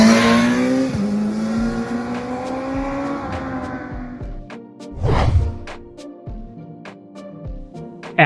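A superbike fitted with an aftermarket exhaust revs hard and rises in pitch, then drops off with a crackle before a sharp burst of throttle blips, loud and close with no talk.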